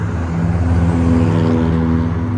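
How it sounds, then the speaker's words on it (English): Cars drive by on a road beside a walker, a continuous loud engine and tire rumble with a steady hum, close and filling the short stretch without talk. "And the cars are probably loud."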